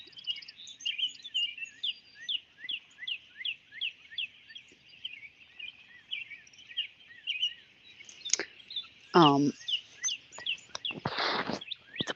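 Loud outdoor birds chirp in rapid repeated tweets throughout, with a brief hum of speech under them.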